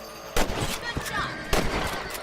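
Gunfire in the Red Dead Redemption video game, a few sharp broadband shots spread over a couple of seconds, fairly close and loud over a busy game background with a little speech-like sound mixed in.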